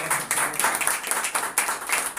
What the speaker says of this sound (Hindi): और जोरदार तालियां बजाइए